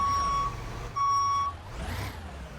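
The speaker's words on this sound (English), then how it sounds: "Oh, that's this airport truck." Airport fire truck in the video game Into the Flames gives two steady reversing beeps, each about half a second long, followed by a passing whoosh, with no talking.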